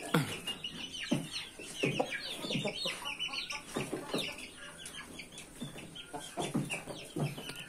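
Chickens and roosters cluck and call repeatedly at close range while being hand-fed pumpkin, with overlapping bursts throughout and faint chirps in the background.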